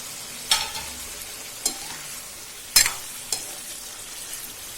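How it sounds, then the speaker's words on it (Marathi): A spatula scrapes and stirs a mixed aubergine, potato and tomato curry in a pan four times at irregular intervals, over a faint steady sizzle. "असं मधून सारखं हलवत राहायचं"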